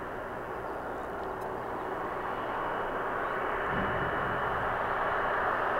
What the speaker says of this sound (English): This is an Avianca Cargo